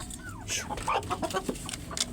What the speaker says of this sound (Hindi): मुर्गी खाना खा लो